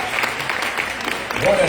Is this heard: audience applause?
yes